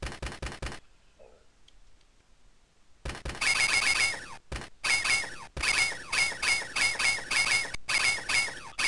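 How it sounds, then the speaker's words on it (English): Shrill, repeated squeaks from bats in the Sega Genesis game Dark Castle, bursting out in rapid chirping clusters after a short near-silent pause, loud and fairly dense throughout. "Oh, now we got bats."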